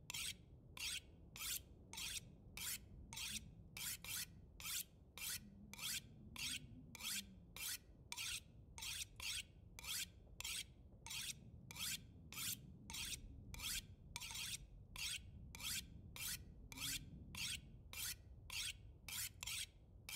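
An item is sharpened in The Long Dark with a regular back-and-forth rasping file stroke, repeated many times at an even rhythm, crisp and close, and no speech.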